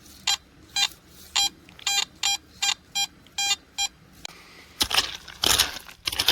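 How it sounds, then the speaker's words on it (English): Metal detector passed over quartz-bearing host rock among river tailings, giving a run of about ten short, evenly spaced electronic beeps, followed by louder scraping and clattering bursts. "it's host rock with quartz. Oh my goodness. And it makes my metal detector go nuts."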